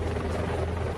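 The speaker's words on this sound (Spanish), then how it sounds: "El helicóptero sobrevoló a Robbie y enseguida intentó sacarlo" A close, loud helicopter drone, constant low rotor rumble and whine with no break.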